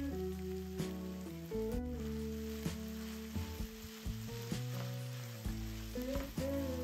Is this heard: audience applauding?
no